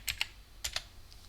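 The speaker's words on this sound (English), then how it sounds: "Type your password," Password being typed on a computer keyboard during a Plex install in Ubuntu 24.04: four quick, crisp key taps in two pairs, close and fairly quiet, followed by near silence.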